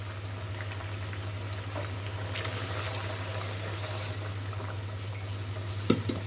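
Potatoes simmer in water in a covered cooking pot for a Bengali rupchanda fish curry, giving a steady, quiet bubbling hiss with a low hum beneath and a small clink of the lid or pot near the end.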